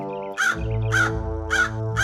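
A crow caws four times in a steady, evenly spaced rhythm, each call loud, harsh and close, over a low continuous background hum.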